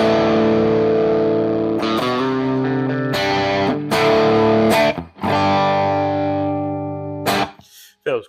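Distorted Epiphone Sheraton electric guitar played on both pickups, loud sustained chords and riffs with several brief pauses, ringing alone.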